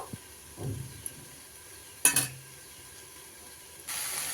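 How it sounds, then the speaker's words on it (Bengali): Cauliflower and potatoes are stirred in a cooking pan with a faint sizzle and steam hiss, broken by a couple of short scraping bursts amid mostly quiet stretches. "ফুলকপি আলুর সাথে মিশিয়ে নিচ্ছি"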